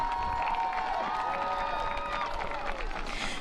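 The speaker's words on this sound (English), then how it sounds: "How about another round of applause for these amazing seniors?" Audience applause and cheering for graduating band seniors at a college football halftime show, Westminster versus Carnegie Mellon, a steady wash of clapping and crowd noise with a few shouts, under a faint tonal line.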